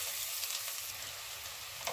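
A medium diced onion fries in hot oil in a pan, giving a steady, dense sizzle that stays loud and even throughout with no voices.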